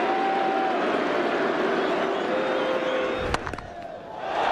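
Large Welsh crowd at an Ashes cricket match in Wales roaring and cheering after Anderson smashes a shot, a dense sustained wash of noise with a sharp bat-crack-like burst near the end before the cheer swells again.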